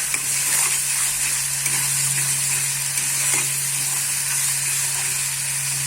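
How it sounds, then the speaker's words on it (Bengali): Tomato and onion mixture frying in oil for a fish roe dish, giving a steady, close, even sizzle that holds throughout with no voices. "কষাতে কষাতে টমেটো আর এই পেঁয়াজের মিশ্রণটা তেল ছাড়তে শুরু করেছে।"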